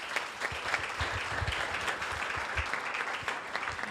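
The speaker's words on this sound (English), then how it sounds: "Just give them a big round of applause." An audience at a book launch on building high performance teams gives a hearty round of applause for two assistants, a close, full burst of many hands clapping that holds steady throughout with no speech over it.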